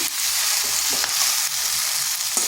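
Spices with turmeric sauté in a pan over low heat for a cauliflower, potato and egg curry, with a dense, steady frying sizzle and a few soft stirring scrapes and no voices.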